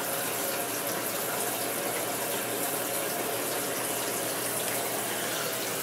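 Water rushes steadily into a Maytag Neptune washer as it fills to high level, a constant broadband hiss with faint mechanical clicks underneath, close and even throughout.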